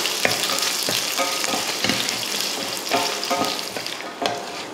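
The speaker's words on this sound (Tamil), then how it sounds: "மல்லி மிளகாயை வறுத்தாச்சு." Coriander seeds and red chillies roast in a pan, a steady dry sizzle broken by repeated scraping stirs at close range, with no talking.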